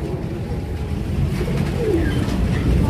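Pigeons coo softly at Swayambhu Temple in Nepal against a loud, steady background of rushing noise, with no voices.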